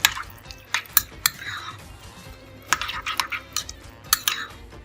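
A spoon clinks and scrapes around a bowl while mixing a chunky tomato dressing seasoned with salt and pepper: bright metallic taps and wet stirring, close and fairly loud, in irregular bursts.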